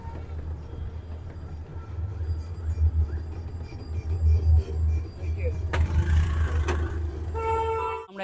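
A reserved toto electric rickshaw carries riders along the road toward Mandarmoni, a steady low rumble of travel noise with passing traffic and a brief horn-like burst near the end, voices chatting over it.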